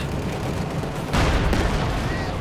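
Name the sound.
Pak 40 anti-tank gun firing in video game Company of Heroes 2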